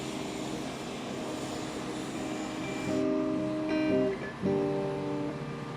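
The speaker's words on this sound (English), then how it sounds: "We got to go on a C-130 airplane with a whole bunch of relief workers from all over the world" A C-130 transport aircraft in flight gives a steady, droning turboprop roar with tonal propeller hums that swell and shift partway through, continuous and close, with no voices.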